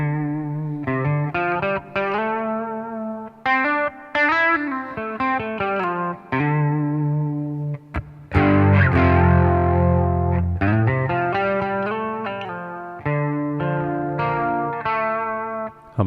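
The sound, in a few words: electric guitar through TC Electronic Plethora X3 advanced chorus effect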